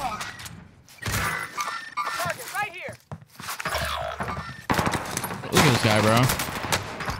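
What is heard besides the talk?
heavy gunfire from video game Call of Duty Warzone, Rebirth Island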